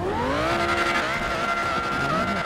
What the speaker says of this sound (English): Even the 720S sounds like the real McLaren 720S, guys.